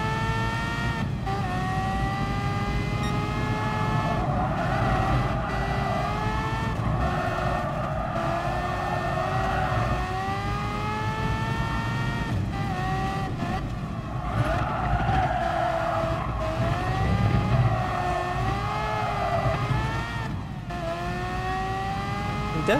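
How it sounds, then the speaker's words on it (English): A race car in the GT Sport video game runs continuously at high revs, its loud engine drone rising and falling with gear changes, joined by tyre squeal and mechanical suspension noise throughout, with no talk. "I'm definitely hearing this car making its mechanical sounds of suspension work."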